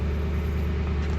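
A Mercury Marauder's exhaust rumbles in a steady low drone at close range, with no break.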